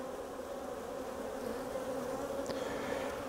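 Honey bees buzz at an opened split hive in a steady, moderately faint drone, with one louder bee briefly zipping past close by partway through.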